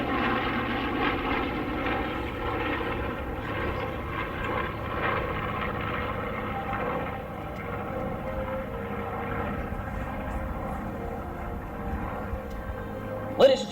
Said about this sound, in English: This time, P-38 tucked in tight. The P-51 right on the wing there.